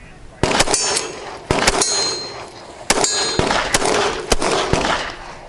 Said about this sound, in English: I hit the 100-yard gong.